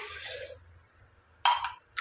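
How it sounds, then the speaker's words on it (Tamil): Water is poured in short bursts into a mixture of lemon juice, milk powder and sugar: a splashing pour at the start, a quiet gap, then two brief louder gushes near the end. "தண்ணி சேர்த்துக்கலாங்க."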